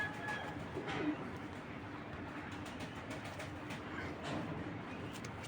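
Pigeons coo softly in a loft where healthy birds of both sexes are kept, their low calls repeating over a steady background hum with faint clicks and rustles, and no talking.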